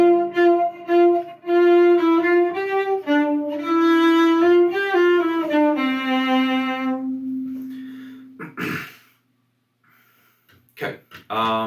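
A cello plays a slow passage from La Cinquantaine, Suzuki Book 3, with sustained bowed notes stepping downward as it shifts down a string. It is close and solo, followed by breaths and a few soft handling noises.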